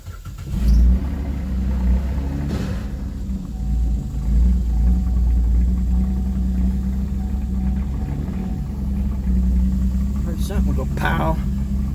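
A 2012 Chevrolet Camaro, damaged in an accident with a failing battery, cranks and fires up, then settles into a loud, steady idle with a brief rev, while people talk nearby.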